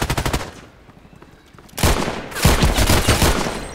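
Gunfire from a Colt Python Elite revolver in the online shooter game Contract Wars, heard as loud, close broadband bursts: a rapid rattling series at the start, then two heavy blasts with lingering reverberant noise, no talking.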